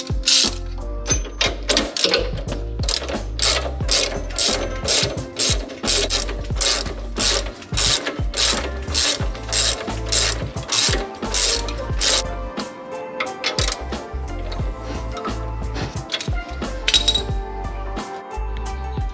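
A ratchet wrench tightening a bolt during drift car prep, a rapid run of sharp metallic clicks close up, pausing briefly partway through before resuming, with no speech.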